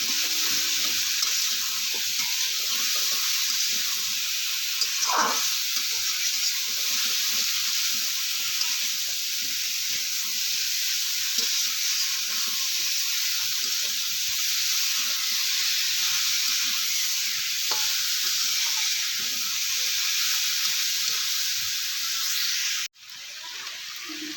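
Spices, turmeric and salt fry in a pan for a vegetarian drumstick recipe, a steady close sizzle with faint stirring sounds throughout and a sudden cut near the end.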